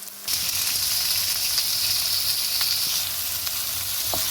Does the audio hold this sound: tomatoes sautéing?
yes